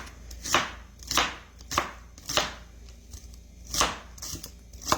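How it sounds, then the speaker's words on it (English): Knife chopping onions into thin rings on a board, about eight crisp, evenly spaced cuts, close and clear with no talking. "I'm going to go ahead and get my onions prepared and cut."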